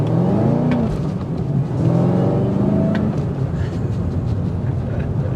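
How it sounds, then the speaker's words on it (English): A Chevrolet Camaro ZL1 with a 650-horsepower LT4 engine accelerates hard, its loud, steady roar climbing in pitch with no pauses and no talk. "Look at this thing go."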